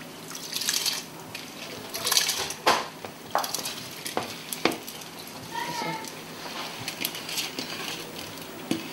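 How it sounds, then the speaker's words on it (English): Rice is tipped into a pot of red stew for jollof rice, bringing scattered clinks of pot and utensil, soft scraping and wet stirring sounds. The noises come close by as irregular taps and rustles, with no talking. "So I'm just going to take the rice and add it on."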